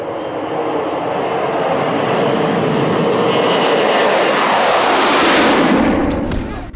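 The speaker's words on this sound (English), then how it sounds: "If a jet plane zooms from the left to the right of the screen, its sound will pan from the left speaker to the right speaker." A jet plane zooms past, its broad roaring engine noise swelling steadily and sweeping across with a rising then falling whoosh, loud and close, with no voices.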